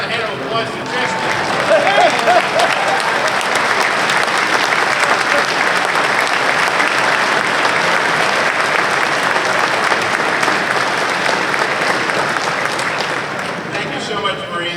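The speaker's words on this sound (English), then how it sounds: "How about a hand of applause to Chesty?" Loud, sustained applause from a large conference audience for Chesty the dog, a dense wall of clapping that builds and holds for many seconds, with crowd murmur mixed in.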